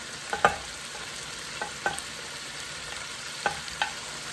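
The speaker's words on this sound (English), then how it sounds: "Now we're gonna add sweet pepper." Sweet pepper stirred into a sizzling pan while cooking Jamaican-style steamed snapper: soft steady frying hiss with a few clicks of the utensil against the pan.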